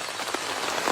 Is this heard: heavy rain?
yes